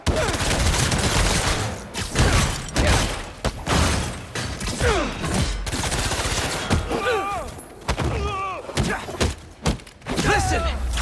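Rapid gunfire and bursts from enemy weapons in Marvel's Spider-Man 2 fill a chaotic fight, mixed with heavy thuds, impacts and shouted voices over dense game sound.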